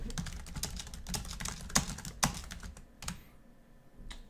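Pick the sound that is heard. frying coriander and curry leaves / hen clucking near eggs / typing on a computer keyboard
typing on a computer keyboard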